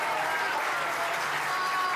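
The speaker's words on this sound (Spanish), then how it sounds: "Pido un aplauso." An audience at an Argentine political rally applauding, dense steady clapping that fills the whole stretch, with faint crowd murmur beneath.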